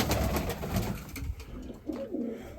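Pigeons cooing up close in a loft in Kamianske, soft repeated low coos over rustling and background noise, no talk.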